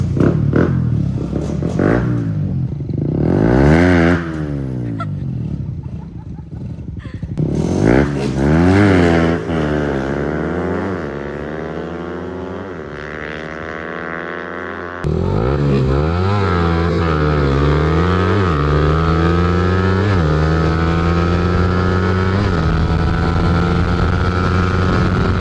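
Suzuki Raider and Winner X motorcycles racing, their engines rising and falling in repeated revving sweeps as they accelerate and shift, loud and close, with a steady high-pitched engine drone carrying through the later stretch.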